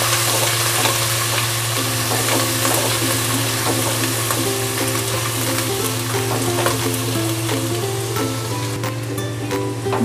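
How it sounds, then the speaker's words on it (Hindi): Chopped ginger and garlic sizzle with light-browned onions in a pan, a steady loud frying hiss with occasional crackles and stirring clinks throughout, over a low steady hum. "अब इसमें मैं अदरक और लहसुन चॉप किया हुआ डाल दूंगी।"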